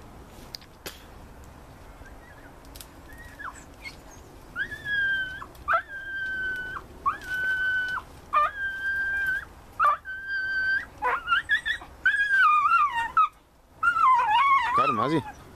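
A big yellow dog in a ditch howls and whimpers in long wavering, rising cries that grow more frantic toward the end, close and loud, with short pauses between calls and bits of outdoor background noise.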